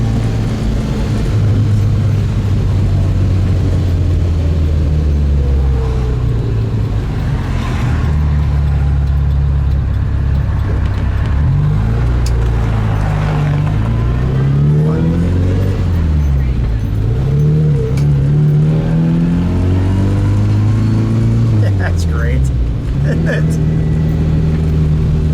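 A 1960 Fiat 1500S OSCA coupe engine winds up and revs on the road, loud and close, rising and falling through the gears over a steady drone, while people talk inside the car.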